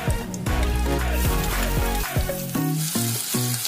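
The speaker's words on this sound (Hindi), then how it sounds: "और इसे गोल्डन ब्राउन होने तक इसे फ्राई करेंगे।" Onions, mustard seeds and curry leaves frying in hot oil for sooji upma, a loud steady sizzle with scraping stirs throughout and no talk.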